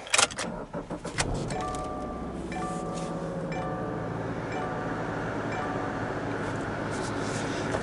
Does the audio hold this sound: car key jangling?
yes